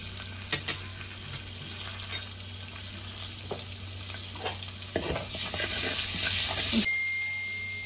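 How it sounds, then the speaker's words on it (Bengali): Chopped garlic sizzles in hot oil for fried rice, a steady close hiss with scattered stirring clinks, which grows louder and brighter toward the end before cutting off abruptly. "এবার তেলের মধ্যে রসুন কুচি দিয়ে দিলাম।"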